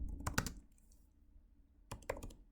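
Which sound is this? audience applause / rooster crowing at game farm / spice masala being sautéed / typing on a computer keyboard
typing on a computer keyboard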